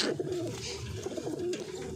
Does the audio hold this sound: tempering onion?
no